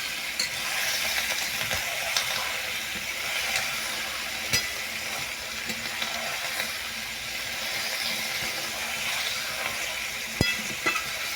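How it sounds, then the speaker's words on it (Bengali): Chicken fries with onions in a pan and is stirred now and then, giving a continuous close, bright sizzle with occasional scrapes and taps of the utensil, and no talking. "পেঁয়াজের সঙ্গেই কিছুক্ষণ ভেজে নিলাম নাড়ানাড়ি করে"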